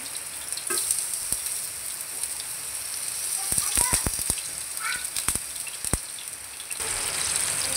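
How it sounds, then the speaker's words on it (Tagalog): Sliced bitter gourd (ampalaya) frying in hot cooking oil, a close, steady sizzle with a cluster of sharp crackling pops near the middle, and no speech over it. "Ngayon ay pipirito naman natin. Lalagyan na natin ng mantika. Lalagyan na natin ang ating ampalaya."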